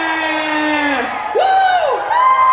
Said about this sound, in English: we say 1, 2, 3, you go Nijigen Expo, yeah!